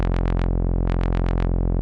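Phase Plant synthesizer tone with its filter cutoff rhythmically modulated, a steady sustained note swelling open and closed in quick pulses, four sweeps, a brief gap, then five more.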